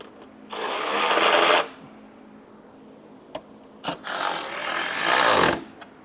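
A power driver whirs in two long buzzing bursts tightening screws on a scooter rear fender, with short clicks and taps between, close and loud.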